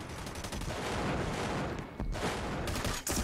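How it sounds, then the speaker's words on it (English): M16 rifle fire in the shooter America's Army, firing in semi-auto only. A loud, dense crackle of shots runs almost without a break, with a brief dip near the end and no voices. "We got the M16 now."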